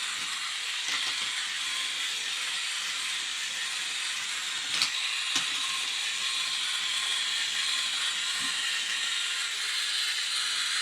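Small walking robot base driven by a single-shaft TT gear motor running on two AAA batteries, with a ratchet wheel and shuffling feet. It gives a steady, faint mechanical whir with soft hiss and a few brief clicks.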